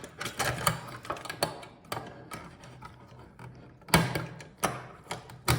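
Plastic-on-metal snapping and clicking as stand legs snap onto an MSR Whisperlite camping stove, a run of sharp close clicks and rattles with a louder snap near the end.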